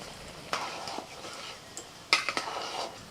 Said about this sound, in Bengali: এবার আস্তে আস্তে একটুখানি মিশিয়ে দেব।